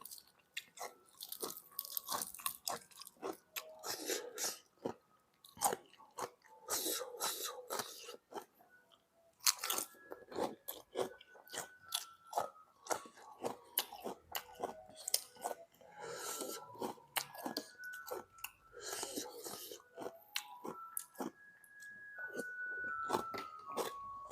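Mountain shrimp crunched and chewed up close, loud crisp bites repeating in irregular bursts with short pauses between mouthfuls, no talking.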